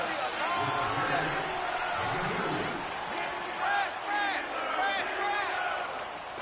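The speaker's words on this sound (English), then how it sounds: "the crowd getting into it as we come up on a big 3rd down" A stadium crowd roars in a football video game on a big third-down play, a broad sustained cheer that swells and dips, with an announcer talking over it.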